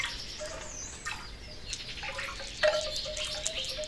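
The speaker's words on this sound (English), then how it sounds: "Bird songs." Small birds chirp and tweet in short, scattered calls at moderate distance over a soft background, with a few brighter notes near the end and no voices.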